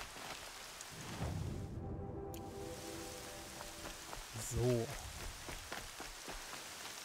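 Steady rain hisses across the Horizon Zero Dawn game world, a soft constant wash with a brief quiet gap and a short tonal game cue; someone says a single word.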